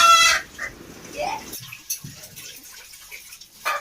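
A village rooster lets out a brief loud squawk at the start as it is slaughtered, followed by quieter scattered rustles and splashing sounds.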